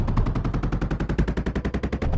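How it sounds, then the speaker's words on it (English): Rapid, steady bursts of gunfire-like explosions in a video game, a fast rhythmic series, loud and close, with no voices. "I heard explosions."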